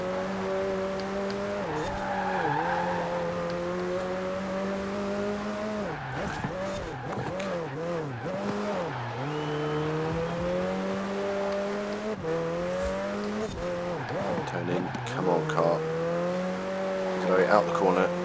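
A McLaren 720S in Forza Horizon 4 hill climb race roars loudly with its engine rising and falling through gear shifts, tires squealing in corners, continuous and close, with someone talking over it.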